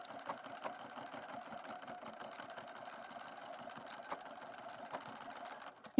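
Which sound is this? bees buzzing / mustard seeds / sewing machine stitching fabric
sewing machine stitching fabric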